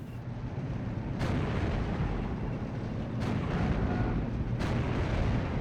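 Tank guns and artillery fire in a Steel Division 2 battle, T-34-76 tanks engaging: a dense, continuous rumble of distant bombardment, with three sharp, loud booms standing out over the steady roar.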